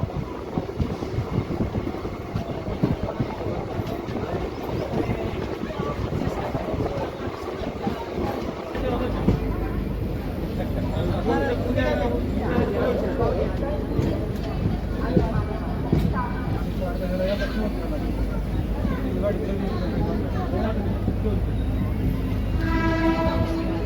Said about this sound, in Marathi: तर मित्रांनो आता बार्शी इथे आपली ट्रेन थांबलेली आहे